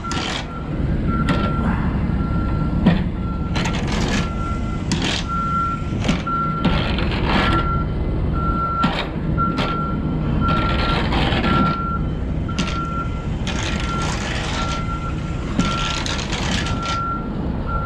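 Regular electronic reversing beeps repeat steadily over the loud, constant rumble of a nearby idling semi truck engine backing uphill under a trailer, with occasional brief hissing bursts.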